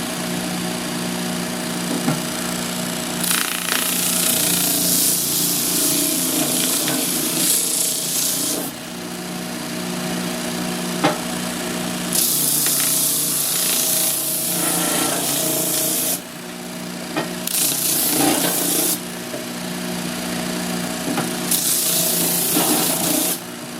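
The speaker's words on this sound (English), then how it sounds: "Over at the sand flea now, I'm going to do some sanding on this." A Sand Flea drum sander works a piece of wood, giving a steady motor hum under loud rasping bursts of sanding that start and stop several times, close and alone.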